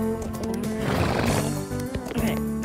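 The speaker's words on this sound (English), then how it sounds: "Ooh, that's a pretty horse." In a wild horse islands video game, a horse whinnies loudly with clip-clopping hooves, while a voice talks over the sounds.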